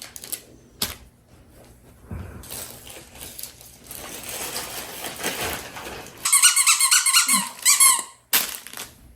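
A rubber duck toy squeaks in a quick burst of several sharp, close squeaks after some rustling and handling noises.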